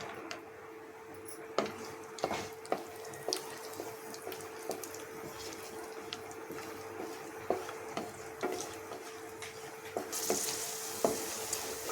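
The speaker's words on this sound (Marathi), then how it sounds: "तर आपण इथे स्लो गॅसवरती छान खमंग ड्रायफ्रूट भाजून तळून घेतलेले आहेत" Dry fruits frying slowly in ghee over a low gas flame, a soft, quiet crackle running steadily throughout, with scattered small pops and light clinks from stirring.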